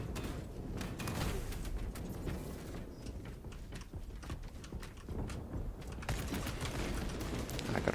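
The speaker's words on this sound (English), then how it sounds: "That's a lot of bolt of fire coming our way." Heavy bolter gunfire pours in during a Space Marine 2 multiplayer match, a dense, continuous barrage of rapid shots and impacts that stays loud throughout without letting up.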